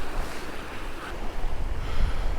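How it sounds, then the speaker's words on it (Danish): Strong, cold wind blows at the sea during winter sea trout fishing, a constant loud roar of gusts and surf buffeting the microphone with no speech. "ej hvor det blæser, og hvor er det koldt"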